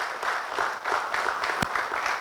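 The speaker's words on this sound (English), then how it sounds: "Please give him a huge round of applause" Applause from an audience at a corporate HR awards event, steady dense clapping sustained for a couple of seconds with one sharper clap standing out, moderately loud and without talk.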